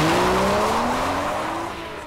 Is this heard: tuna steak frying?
no